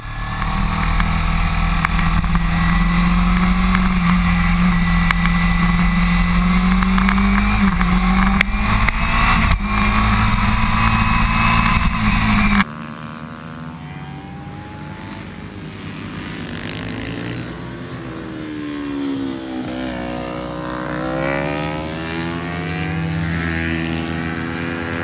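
A Kawasaki Ninja 250R on a race track at a night track event, its engine droning loudly and steadily with rising and falling pitch, then dropping to a lower, more distant whine as it passes and rides on.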